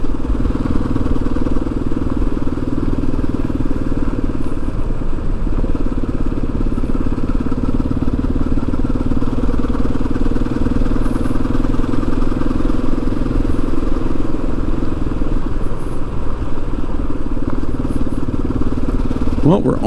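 Yamaha XT250 motorcycle engine cruising at low RPM along a road, a steady low droning hum that holds evenly throughout with a faint clatter, while someone talks over it.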